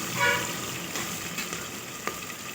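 Broken green chillies sizzling in hot oil in a pan while making banana flower biryani, a steady close frying hiss with a few small crackles and pops.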